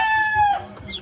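A young gamecock stag on a backyard farm lets out a short, clear crow fragment that breaks into a cluck, close and fairly loud, all within about a second.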